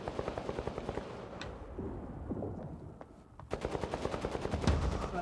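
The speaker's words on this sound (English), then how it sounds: "Alright, so naturally the gunfire is getting louder." Rapid automatic gunfire in the video game Vampire: The Masquerade - Bloodhunt, bursts of loud, evenly spaced shots that briefly pause, then resume in a heavy rattling volley.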